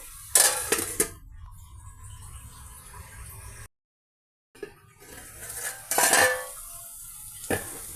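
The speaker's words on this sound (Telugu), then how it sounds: "ఇలాగే లో ఫ్లేమ్ మీద ఈ బెండీస్ని టమాటా అన్నీ మిక్స్ అయిన ఈ కర్రీని అలాగే మగ్గనిద్దామండి." A pan of okra and tomato curry on a low flame, with a soft steady sizzle, metal spoon stirs and clinks against the pan in a few bursts, and a short silent gap partway through, all close and without voices.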